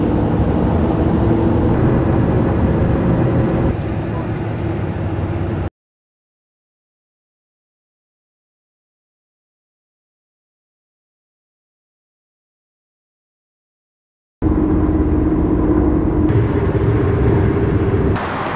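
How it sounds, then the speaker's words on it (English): Car driving on the road on a 104-degree day, with a steady, loud interior road and engine rumble that cuts out to silence partway through and then resumes, with no talking. "Let's drive."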